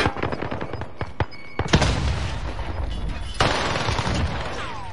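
Gunfire in a battle royale game: a quick string of sharp close shots, then heavy booming blasts and a sustained roar of rapid fire.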